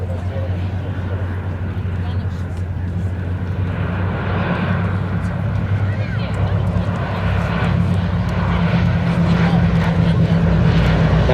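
Deep, droning propeller engines of a B-17 bomber rumble steadily and grow slightly louder, the heavy four-engine aircraft passing at a distance at the Sywell air show, with a faint voice underneath.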